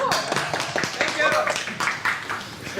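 Audience applause at the end of a tech conference talk on deploying Go functions: brief scattered claps mixed with a speaker's voice.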